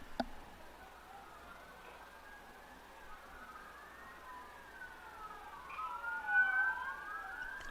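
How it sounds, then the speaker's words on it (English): Wailing emergency vehicle sirens sweep up and down at a distance in Kansas City, several overlapping, swelling slightly louder toward the end over faint background hum during a baseball game. "A lot of sirens in Kansas City this morning."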